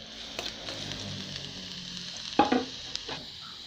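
Garlic hits hot oil in a pan and sizzles softly, with a sharp crackling burst as it goes in and a low steady fry with stirring clatter around it.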